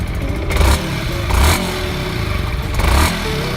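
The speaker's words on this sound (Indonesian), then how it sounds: "Kita dengerin ya suara mesinnya" A stock Yamaha R15 V3 motorcycle engine idles and runs steadily, with a few louder revving swells at regular intervals and some mechanical clatter, close by.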